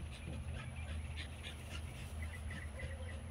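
A dog pants and whimpers close by over a steady background hum, making soft rhythmic breaths with faint high whines.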